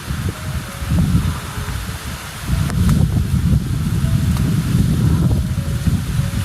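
Strong wind roars and buffets continuously, with gusty rumbling that swells louder partway through; no one speaks.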